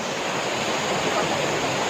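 Small waterfall roaring in a steady, loud, dense wash of falling water that never lets up, heard close by with no voices over it.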